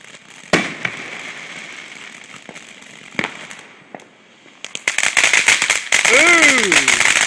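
Fourth of July fireworks pop and crackle in sharp scattered bangs, then build into a dense rapid crackling volley near the end, with voices talking and exclaiming over them.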